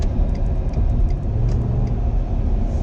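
A Ford F150 pickup truck driving on the road, with a steady low engine and road rumble running throughout at a constant level, close and fairly loud, with no talking.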